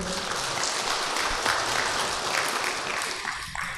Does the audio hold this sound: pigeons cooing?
no